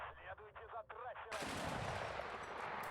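Gunfire in the combat video game WARNO breaks out as a dense, sustained burst of rapid shots after someone speaks briefly, loud and continuous.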